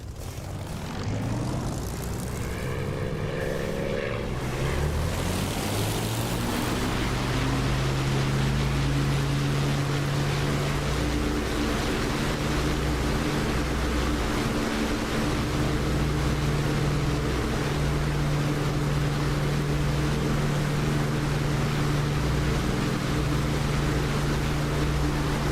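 Steady, loud drone of an aircraft engine and propeller winding up for takeoff in the DCS flight simulator, a broad roar that settles into a sustained hum with strong low tones throughout.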